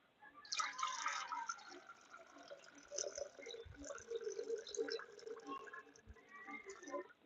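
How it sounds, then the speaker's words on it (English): Hot water running and splashing while rinsing a beaker of recovered gold material from IC chips, faint, uneven trickling and sloshing with a few soft knocks. "For now, let's rinse it with some hot water,"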